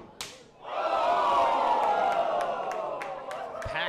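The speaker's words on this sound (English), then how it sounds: "Packed crowd here at Lee's Palace reacting to that." Packed wrestling crowd at Lee's Palace during a five-way scramble match erupts into a loud sustained roar of cheers and shouts after a sharp slap, with a few more smacks cutting through near the end.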